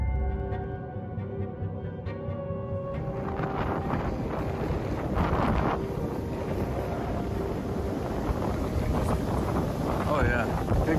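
Strong wind buffets the microphone in a loud, continuous roar, with faint voices and creaking in the background.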